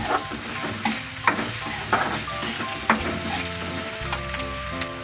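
Onions fry and sizzle in a pan with rock salt for a crab gravy, a steady loud crackle broken by several scrapes of stirring, with no voices.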